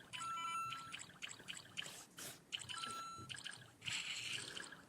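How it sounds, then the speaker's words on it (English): A Lego Super Mario toy plays a bright, electronic water-splash sound effect in short repeated bursts, faint and close, with no talking. "it's the water effect"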